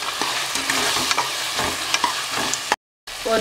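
Ginger garlic paste sautés in hot oil with a dense, crackling sizzle and scraping stirs near at hand, cut by a short silence toward the end.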